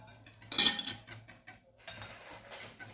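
Chocolate cake batter with a little vinegar added being stirred in a bowl, with a loud clatter of a utensil against the bowl followed by softer scraping and tapping, close up and without talk.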